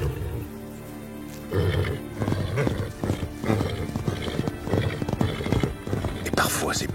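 Wild primitive-breed horses, a proud white stallion among them, with neighing and whinnying over clattering hoof steps and a roaring, rumbling background; a brief shrill whinny near the end.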